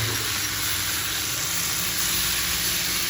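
Prawns frying in a pan, a dense continuous hissing sizzle that fills the short stretch, close and steady with no talk.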